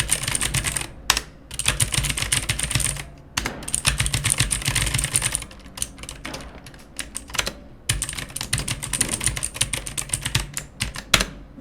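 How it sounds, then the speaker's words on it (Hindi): Rapid, continuous clacking of a Kreo Hive mechanical keyboard's switches being typed on, crisp and close, with brief pauses between bursts. "सो अभी मैं आपको इस स्विचेस की आवाज़ सुनाऊंगा।"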